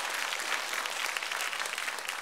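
Applause from a church congregation at a teachers' training session, a steady dense clapping that fills the whole moment without letting up.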